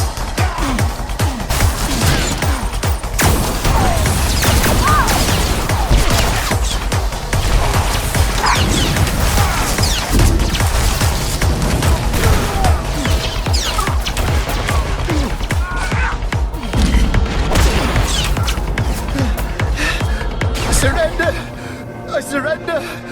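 Blaster gunfire fills a Star Wars video game cinematic on Tatooine, loud and dense for the whole stretch, with shouted voices and crashes mixed into the battle before it drops off near the end.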